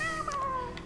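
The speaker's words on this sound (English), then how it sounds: "Now that sound you heard, that meow, that's a grub." A single drawn-out, high meow with a slight warble from a grub in the video game Hollow Knight, heard clearly over faint low background noise.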